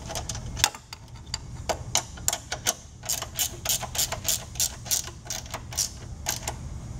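An 11/16 wrench ratcheting a bolt tight on a 2015 Amtex Inferno 2747 direct drive machine, a rapid run of close, crisp metallic clicks over a low steady hum.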